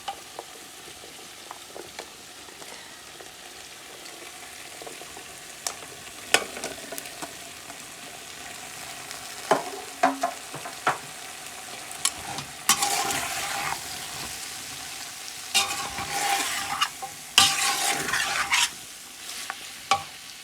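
Carrots and other vegetables for chicken noodles are stir-fried, with a soft sizzle under repeated scraping and clanking strokes of a utensil against the pan that grow busier and louder in the second half.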